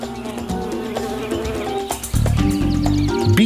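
Bees buzz around flowers in a steady droning hum that thickens and grows louder partway through, layered with musical tones and no voices.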